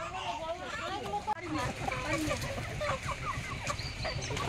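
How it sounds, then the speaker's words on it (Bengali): Chickens and ducks cluck and chatter together while eating scattered feed in a village yard, a dense, continuous flock sound close by, with a person talking over it. "হাঁস মুরগিদেরকে এখন খাবার দেওয়া হয়েছে, সব খাচ্ছে"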